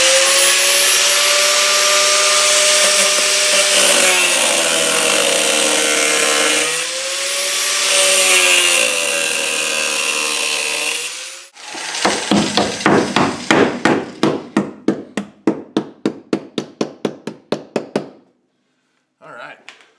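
Work on a Jeep Grand Cherokee's rear fender: a long, loud cutting whine for about eleven seconds, then a run of sharp, rapid hammer blows folding the metal lip back, ending abruptly before a final brief noise.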